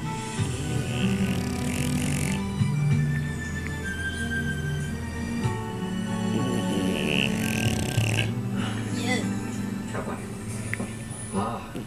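An English bulldog snores while asleep, with a steady run of low, rumbling, snorting breaths repeating close to the recorder throughout, loud and continuous with no talk over it.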